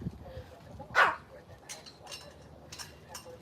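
One sharp, fairly close bark from a male dog outdoors in a front yard, followed by a few fainter yips and distant noises in a quiet setting.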